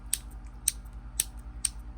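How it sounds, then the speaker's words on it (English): Four sharp, evenly spaced clicks from the mechanism of a German-made double part salvaged at a junkyard, crisp and fairly close over a low steady hum. "Beautiful clicking mechanism."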